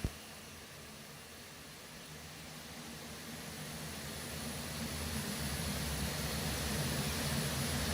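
An Airbus A400 military transport plane takes off, its steady broadband engine and propeller roar holding loud and constant and swelling slightly over several seconds, with no voices.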